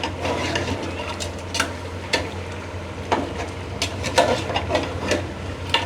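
Fried onions being stirred into nihari in a pot, with steady scraping and stirring scrapes, occasional utensil clinks against the metal, and a low continuous hum throughout.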